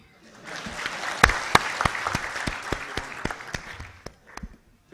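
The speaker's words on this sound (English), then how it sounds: "And second round of applause for all those who are here today." Audience at a technology and entrepreneurship talk breaks into applause that swells quickly, with sharp individual claps over a clapping crowd, then thins and fades out near the end.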